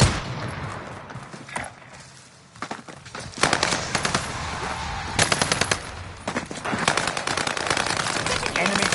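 Automatic gunfire in the Call of Duty Warzone video game on Rebirth Island, rapid loud bursts and overlapping volleys that come back again and again, with players talking over it.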